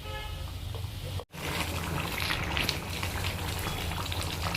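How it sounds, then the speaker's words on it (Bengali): Chicken curry broth simmering in a pan, a steady close bubbling and spitting hiss that runs on after a brief drop to silence, with no voices over it. "আবারও মা ঝোলটাকে একটু ফুটিয়ে নেবে।"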